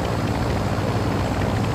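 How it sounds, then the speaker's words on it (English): A helicopter in the video game Call of Duty Warzone 2 approaches with a steady, loud rotor thrum and engine drone that fills the short stretch without a break, heard alone with no speech. "There's a helicopter coming towards you."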